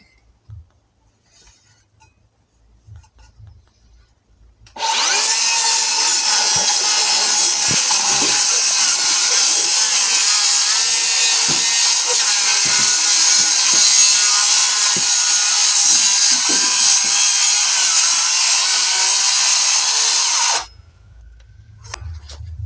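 A saw fitted with a Hercules 24-tooth framing demolition blade cuts through wood in one loud, steady, continuous roar lasting about fifteen seconds, with quiet before and after.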